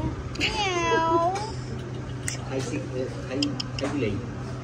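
A local cat meows several times near a plate of Thai fried rice, drawn-out wavering cries close by, with people chatting alongside.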